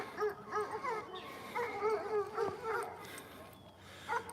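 Several dogs barking, yipping and whimpering at a distance on a cold morning walk, a steady stream of overlapping excited calls, with footsteps and faint outdoor background.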